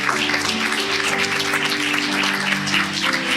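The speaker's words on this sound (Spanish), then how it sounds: "Ese aplauso es para Cristo." A church congregation applauds together in a sustained, even burst of clapping that fills the hall at full volume, with a faint tonal hum running underneath.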